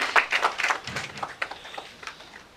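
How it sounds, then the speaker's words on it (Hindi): An audience applauds to welcome the writer Mamta Kalia at a memorial and book-launch ceremony, with scattered claps rising in short bursts and then thinning out to a few fading claps. "कृपया जोरदार तालियों से स्वागत करें"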